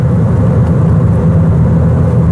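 Cabin drone of a 2019 Ford Fiesta ST with its 200 hp engine accelerating, a steady low rumble with a faint rising engine note running continuously and fairly loud throughout.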